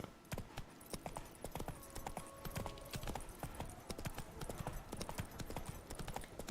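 Horse hooves clip-clop steadily at a gallop in The Witcher 3 video game, a quick continuous rhythm of hoof strikes close by with no talk over it.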